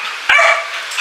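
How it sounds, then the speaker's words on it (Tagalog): A single sharp dog bark trailing into a short whiny yelp, loud and close. "Ingay ng aso namin."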